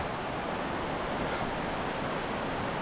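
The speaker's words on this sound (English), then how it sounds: "Waterfall here, there." Wahclella Falls in the Columbia River Gorge pours as a dense, steady roar of rushing water, loud and unbroken, with no voices.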